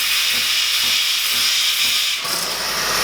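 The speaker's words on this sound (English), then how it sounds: "just give it a purge with steam. So just turn it on slightly to steam until you start seeing steam coming out" Steam wand on a Sage / Breville Barista Pro espresso machine purging, a steady loud hiss of escaping steam that continues throughout with a slight dip near the end and no talk.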